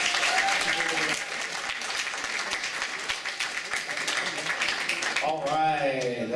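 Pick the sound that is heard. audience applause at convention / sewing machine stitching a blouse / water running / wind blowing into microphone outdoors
audience applause at convention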